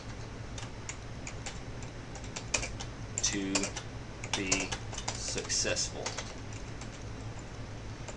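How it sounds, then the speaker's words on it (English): Quiet tapping on a computer keyboard, a few scattered keystrokes and then short busy bursts of typing, close but soft, with a voice talking briefly over the clicks. "I'm terrible at typing and speaking at the same time."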